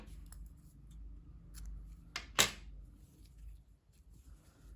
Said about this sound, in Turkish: İpliği burada kesiyorum arkadaşlar.